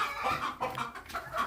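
Free-range country chickens cluck steadily on a small organic egg farm, a close, continuous chorus of short clucks and murmurs with no other voices.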